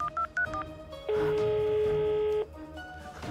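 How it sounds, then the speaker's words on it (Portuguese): Telephone keypad dialing tones in an animated web series: a few short separate beeps, then one long steady tone lasting over a second, followed by a couple more brief beeps, clear and close. "Eu vou ligar para a Patrulha Estelar!"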